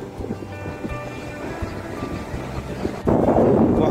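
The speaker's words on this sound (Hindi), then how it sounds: "बड़ा बड़ा लहरें हैं," Big ocean waves at Chandrabhaga beach in Odisha roll in as a steady surf roar that swells much louder near the end, with faint tonal background sounds early on.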